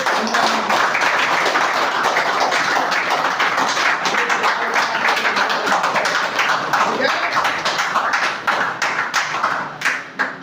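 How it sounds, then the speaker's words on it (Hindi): An audience applauds at a Children's Day gathering in honour of the first Prime Minister's birthday, many hands clapping loudly and continuously, then thinning into scattered claps near the end. "उनका सम्मान करने के लिए एक जोरदार ताली से"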